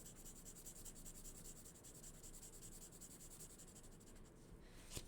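Crayon or colored pencil rubbing across paper while coloring in a flower drawing: a faint, steady scratchy texture of continuous back-and-forth strokes, heard alone without talk.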